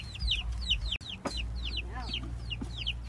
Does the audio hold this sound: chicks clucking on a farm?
yes